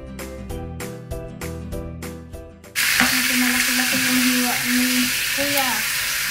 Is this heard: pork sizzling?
yes